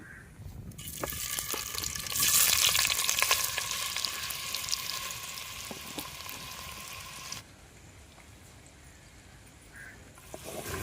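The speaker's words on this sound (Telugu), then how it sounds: "రెండు చెంచాలు నెయ్యి వేసుకుందాం పన్నీర్ ముక్కలు వేసుకుందాం" Paneer pieces frying in ghee in a pan give a steady hiss and sizzle, louder for the first several seconds and then settling quieter, with no talk.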